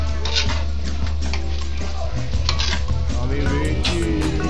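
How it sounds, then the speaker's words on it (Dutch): Squid and other seafood simmer in green curry paste in a pan, with a steady sizzle mixed with stirring and the clatter of pots and utensils, loud and close throughout. "Laten sudderen."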